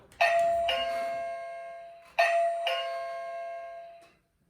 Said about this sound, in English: it's programmed to play the basic ding-dong melody sound